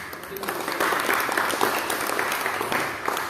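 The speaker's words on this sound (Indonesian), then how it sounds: "Beri tepuk tangan untuk." An audience claps together in sustained, fairly loud applause lasting a few seconds, with a dense texture of hand claps and no talking over it.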